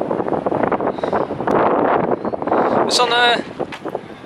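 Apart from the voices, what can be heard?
wind blowing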